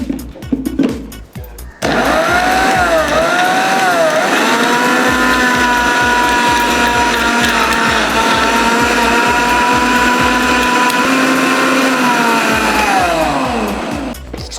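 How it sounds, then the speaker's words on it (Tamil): Mixer grinder whirring loudly and steadily as it blends watermelon, a high motor tone that dips and rises as the load shifts, after a few brief clicks at the start and winding down at the end. "வாட்டர்மெலனை எடுத்து போட்டு மிக்சியில் போட்டு அரைக்க போகிறோம்"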